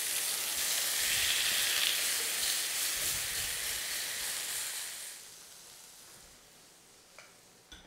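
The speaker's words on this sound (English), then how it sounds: "That gives me enough time to sear my steak. Got that nice smoking hot griddle." Steak searing on a smoking hot griddle gives a loud, close, continuous sizzle and hiss that gradually fades toward the end, with a couple of faint clicks.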